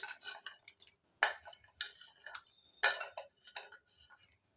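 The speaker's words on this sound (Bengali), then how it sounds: "এবার লেবু রস মেশানো জলের মধ্যে কাঁঠালের বীজগুলো দিয়ে দিচ্ছি" Hard jackfruit seeds drop into lemon water in a bowl, giving several bursts of clinking and splashy rattles separated by short pauses, close and fairly crisp.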